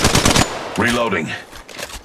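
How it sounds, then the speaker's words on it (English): Automatic gunfire in the mobile battle royale game Apex Legends Mobile, loud close rapid bursts of shots, followed by a character voice calling out over the game sounds. "Taking fire."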